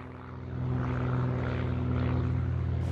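A small short-takeoff-and-landing propeller airplane drones steadily and loudly, its engine swelling after the first half second into a sustained buzzing hum with no voices.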